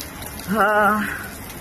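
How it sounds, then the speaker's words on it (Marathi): Heavy overnight rain keeps up a steady background hiss while a voice briefly sounds over it midway through. "रात्रभर असाच ह्याच लेवलचा पाऊस आहे."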